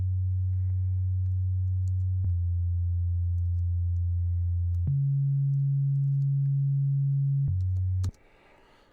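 A pure, deep sine-wave bass tone holds steady, stepping between a few low pitches with small clicks at each change, then cuts off.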